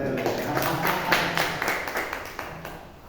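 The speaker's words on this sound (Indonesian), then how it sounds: "Tepuk tangan buat Pak Oya." Light applause at a Bible study meeting, a small group clapping in loose, uneven strokes that gradually thin out and fade toward the end.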